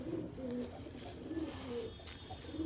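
Pigeons kept for breeding at a home coop coo in low, repeated rolling calls at close range, with a faint background hiss and no clear speech.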